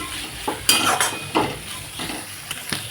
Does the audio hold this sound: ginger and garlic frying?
yes